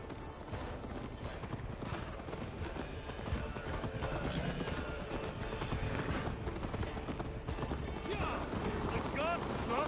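Horse hooves gallop in a quick, steady clip-clop beat in the Assassin's Creed Valhalla video game, with occasional whinnies and wind, under spoken game dialogue.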